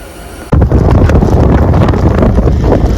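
Strong wind buffets the microphone with loud, rumbling gusts that start abruptly and continue without letup.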